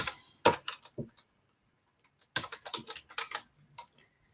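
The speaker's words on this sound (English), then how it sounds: "It's hard to talk and type at the same time." Close keyboard typing comes in two quick bursts of key clicks separated by a short pause, in a quiet room with no talk.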